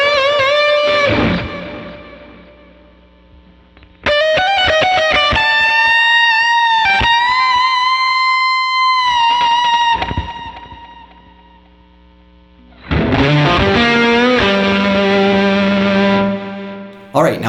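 An electric guitar solo with dynamics created through space: phrases of sustained, bent lead notes separated by pauses where the sound decays to near silence, loud and close, with no voices.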